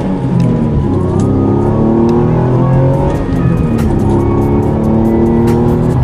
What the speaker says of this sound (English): I'm liking this exhaust that I just installed on my car. It does sound fairly aggressive, even though it's just a cat-back.